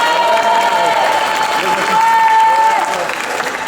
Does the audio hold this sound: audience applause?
yes